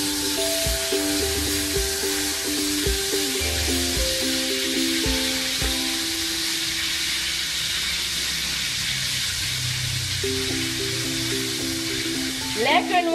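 Butter melting in a pan on the stove gives a steady, fairly loud sizzle and hiss, with a voice speaking over it throughout.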